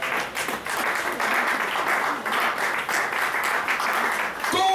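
A church congregation claps and praises the Lord during a sermon, a sustained, full wave of applause that rises and falls slightly, with voices murmuring underneath and a brief clatter right at the end.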